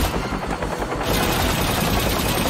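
Rapid automatic gunfire in a Left 4 Dead-style co-op shooter as players fire at an alien clasp, a dense continuous burst of loud, close shots that grows even thicker after the first second.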